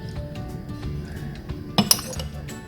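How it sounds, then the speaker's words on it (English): Ice cubes dropping into a glass while mojitos are made, a couple of sharp, bright clinks near the end over a low steady background hum. "then add ice cubes"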